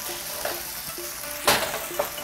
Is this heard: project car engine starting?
no